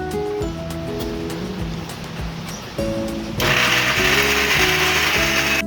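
A kitchen mixer grinder churns tomatoes, green chillies and poppy seeds for a katla fish dish, whirring with rhythmic ratcheting pulses before surging into a louder, harsher grind partway through, with no voices.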